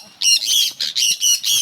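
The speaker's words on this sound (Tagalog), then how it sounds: "Uy, kalapati guys." Birds call in a noisy flock, including pigeons, in Mulabi, with loud repeated squawks in quick bursts close by.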